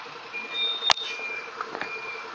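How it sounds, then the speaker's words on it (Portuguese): Truck reversing on a cobblestone street in Colatina, with a steady high-pitched reversing beep repeating over a low engine idle and a brief sharp clank in the middle. "Caminhão."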